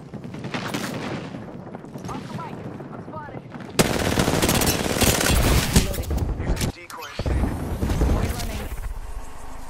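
Rapid automatic gunfire rattles loudly and almost without pause through a shooter video game match, with bursts swelling and briefly cutting out, while a player's voice speaks over the shooting.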